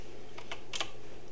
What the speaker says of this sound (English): hit the number 3 on our keyboard